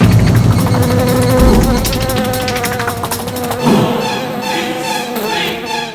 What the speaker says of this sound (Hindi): अरे क्या है मक्खी? कोई मक्खी देखी तो डर गया?